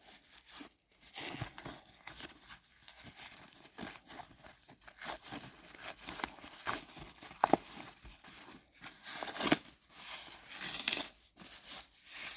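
Packaging being unwrapped from a Dooney & Bourke handbag with a braided leather strap: close, irregular crinkling and tearing of paper or plastic, rising and falling in bursts, with no talking.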